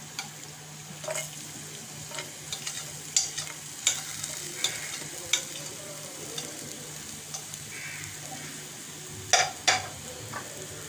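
Chopped onions frying in oil for a mixed vegetable soup make a constant sizzle, broken by frequent clicks and taps of a spoon stirring in the pot.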